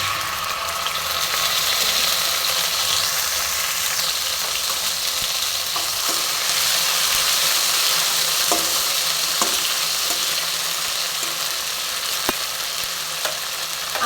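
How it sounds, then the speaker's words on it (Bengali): Ginger paste fries in hot tempered spices for a raw banana pulao, giving a steady close sizzle with occasional scraping stirs and faint clicks throughout, no voices. "ফোড়নটা আমার ভালো মতন ভাজা হয়ে এসেছে। এবার আমি দেখো আদা বাটাটা দিয়ে দিচ্ছি"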